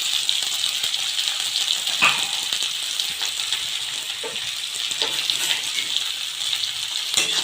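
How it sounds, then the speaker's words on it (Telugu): Onions, green chillies and curry leaves frying in a pan for drumstick tomato curry, a steady loud hiss and sizzle throughout with a few soft stirring scrapes. "ఫ్రై చేసుకోవాలి"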